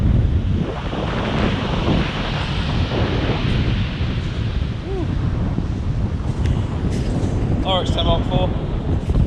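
Strong, gusty wind at the seaside roars steadily across the microphone, with surf beneath, while a person speaks briefly and a few distant bird calls come through near the end.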